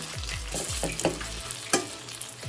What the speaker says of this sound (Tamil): இப்போ நல்லா மிக்ஸ் பண்ணி விட்டுடலாம்.